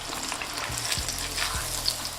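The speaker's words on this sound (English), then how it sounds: "Do not overcook, fry a small batch at a time." Chicken crackles and sizzles in hot oil at about 160 Celsius, fried in a small batch with steady, dense bubbling and occasional stirring clinks close by.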